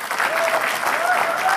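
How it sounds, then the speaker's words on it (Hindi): A crowd claps steadily, dense and continuous, with a voice faintly audible beneath the applause. "एक जोरदार तालियां बजाएंगे"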